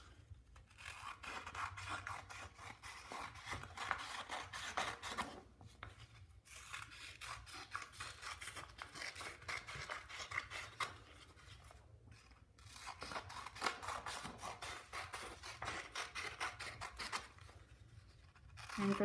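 Scissors cutting out paper bead strips, a soft, close, continuous run of snipping and rasping paper strokes with brief pauses, quiet overall.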